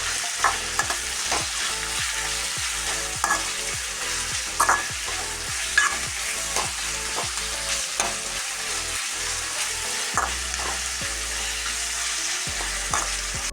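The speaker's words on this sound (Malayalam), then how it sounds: "ഞാൻ കുറച്ച് ഉപ്പിട്ടുണ്ട്, അപ്പോൾ വേഗം ഫ്രൈ ആയിട്ട് കിട്ടും" Sliced onions with salt fry in a pan, giving a steady, close sizzle throughout, broken by regular scraping taps of a stirring spoon, with no voices.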